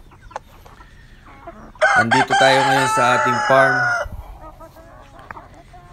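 Free-range chickens on a farm cluck and a rooster crows loudly in a burst at close range, with a person speaking briefly before the crowing and quieter clucks around it.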